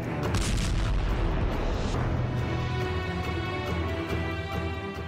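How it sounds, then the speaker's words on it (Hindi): A loud explosion destroying a Russian military truck booms and rumbles, its heavy roar fading slowly into a lingering, droning tail. "चंद सेकंड में ही एक धमाका हुआ और ये ट्रक धुएं के गुबार में बदल गया"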